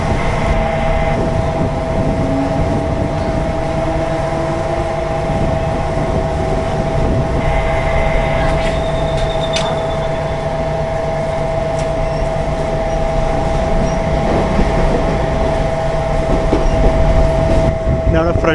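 Steady rumble of a Mumbai Harbour Line local train in motion, heard from inside the first-class coach, with a constant loud fan hum running throughout the ride.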